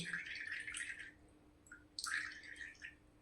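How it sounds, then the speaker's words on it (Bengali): Strained liquid, a homemade hair-growth preparation, is pressed and squeezed out so it drips into a container, with faint soft dripping and trickling in two short bursts. "আমি ছেঁকে নিয়েছি আর দেখো কত কতখানি বের হয়েছে আর এটাকে আরও আমি দাবিয়ে দাবিয়ে বের করে নেব"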